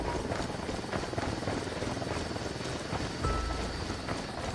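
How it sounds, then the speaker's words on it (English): Helicopter in the video game Ghost Recon Wildlands, its rotor thumping in a continuous, fairly loud drone with no break throughout. "Don't need that chopper."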